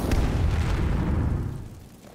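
A shock rune detonates in Skyrim, a loud rumbling blast that fills the low end and then fades away over about a second, with no voices over it.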